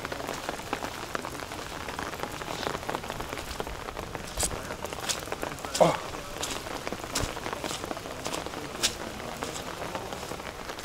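Light rain patters steadily on a mountain trail in the Carpathians, with scattered sharper drops and a brief faint voice in the middle.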